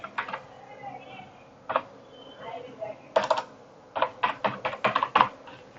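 Clicky keystrokes on a computer keyboard come in scattered bursts, then a quick run of taps near the end, while someone talks quietly over them.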